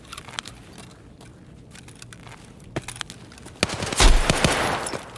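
Gunfire from an AK rifle in Escape from Tarkov, with scattered single shots and short bursts building to a loud rapid automatic burst near the end.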